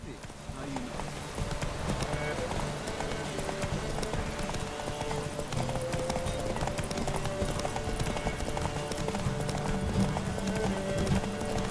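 Hooves of the horse Roach clip-clop in a fast, steady gallop during a horse race in The Witcher 3, a continuous rhythmic drumming with occasional snorts under game noise.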